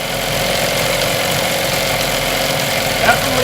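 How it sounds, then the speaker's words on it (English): A two-cylinder engine runs strong and steady while discharging water, giving off a loud, continuous mechanical drone with a faint rhythmic knock throughout. "The engine seems to run strong and fine."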